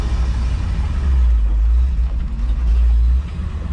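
Heavy low engine rumble from a 1965 Ford F600 truck on the road, loud and steady throughout, easing slightly near the end.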